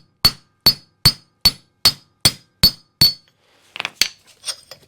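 A hammer taps a wheel bearing race into a Willys Jeep hub in eight sharp, evenly spaced metallic strikes, followed by a few lighter, quicker clinks.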